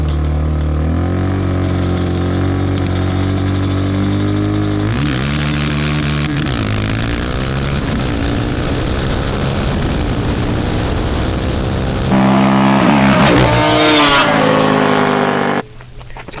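An ATV engine revs hard and accelerates up close, loud and continuous, its pitch climbing and dipping through gear changes before surging again and cutting back near the end.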